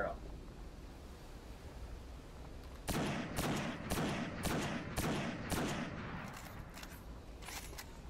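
Rapid sniper rifle fire in the Destiny video game, a burst of sharp repeated shots in quick succession after a quiet lead-in, loud and close.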